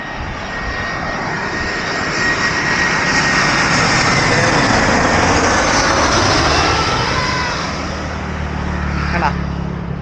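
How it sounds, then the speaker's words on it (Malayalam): A loud Air India airplane roars steadily low overhead, its engine drone swelling and holding for several seconds with a broad rushing noise. "അടുത്ത ഫ്ലൈറ്റ് വരുന്നുണ്ട് കേട്ടോ എത്താറായിട്ടുണ്ട്"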